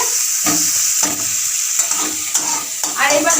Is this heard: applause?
no